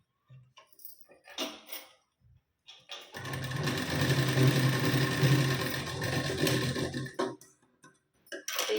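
A home sewing machine stitches the shoulder joint of a blouse with a half-inch seam margin, running steadily for about four seconds between short bursts of handling noise.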